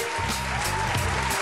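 A studio audience claps during a talk show episode, a brief burst of applause with a low steady hum beneath it, with no voices over it.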